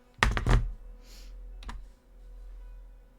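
A computer keyboard is typed on in a quick burst of close clicks, then a few scattered keystrokes and a brief thunk, with no voices.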